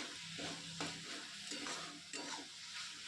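Beetroot frying with green chillies in a pan, stirred in a steady rhythm, with soft scraping strokes about every half second over a quiet, constant sizzle and no talking.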